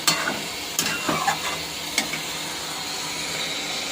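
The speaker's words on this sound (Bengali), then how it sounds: "ভালো করে রসুনটা কষিয়ে নেব। একদম তেল ছেড়ে দেওয়া পর্যন্ত ভাজবো" Garlic frying in oil as it is stirred, a constant hissing sizzle up close with a few sharp scrapes of the spatula against the pan early on, then a steady crackle.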